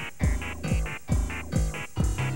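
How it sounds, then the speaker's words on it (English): Cave background music from the Pikmin video game, a looping, bouncy electronic tune with repeated low bass hits and short bright synth notes in a steady, odd rhythm, playing alone at a fairly loud level. "The music in the caves is really bizarre too."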